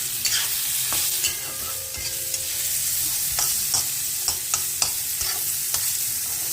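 Onion, garlic and green chilli frying in a pan after cauliflower and carrot, a steady close sizzle with stirring scrapes and light clinks throughout, no talking.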